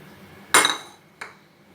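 Potatoes and fenugreek leaves with spices are mixed in a pan, and a metal spoon strikes the pan twice: one loud clang, then a softer tap a moment later.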